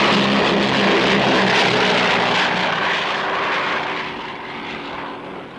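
A propeller airplane flies in to land, its engine drone loud and steady throughout, easing slightly toward the end, with no voices.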